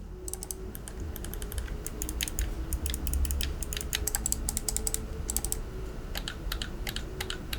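Sharp, quick clicks from the six buttons of an Orochi V2 mouse, pressed in irregular bursts and close by over a steady low background hum.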